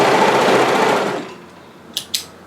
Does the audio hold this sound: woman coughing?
no